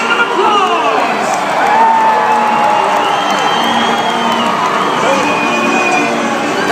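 A large stadium crowd at a monster truck show at Odsal Stadium cheers and applauds in a sustained, loud roar with scattered whoops and shouts throughout.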